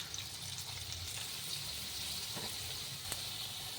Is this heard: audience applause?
no